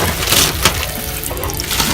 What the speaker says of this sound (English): Gotta wash his hands and stuff